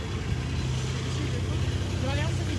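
A car engine runs steadily at a low hum while its driver moves it out of the way, held close and continuous with no clear revving.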